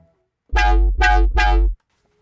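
Three short, buzzy bass house synth bass notes made in Vital, played with and then without reverb, in quick succession, each ending abruptly, with silence before and after.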